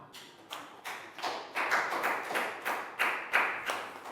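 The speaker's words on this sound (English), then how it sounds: "Big round of applause for Dan." A primary-school class claps for a pupil during an English lesson, about eight distinct bursts of clapping at a fairly even rhythm, each a quick rise and fall, moderately loud with no talk.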